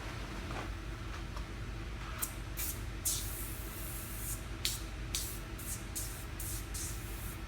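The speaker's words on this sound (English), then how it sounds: "So let me spray half of the tire down" Eagle One All Wheel and Tire Cleaner sprayed onto a car tire from a trigger bottle, heard as a series of short, close hissing bursts in an irregular rhythm over a faint background hum.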